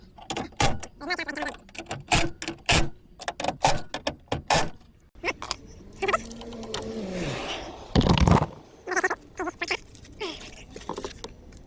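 A power tool drives trim screws on a 1998-2005 Hyundai Sonata EF car door in rapid bursts of loud whirring, separated by short gaps, with talk and handling noises in between.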